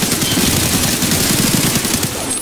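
Rapid automatic gunfire in a first-person shooter game, a dense continuous burst of rattling shots sustained throughout, loud and close with no talk over it.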